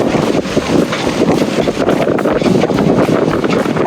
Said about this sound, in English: It's very blustery out here.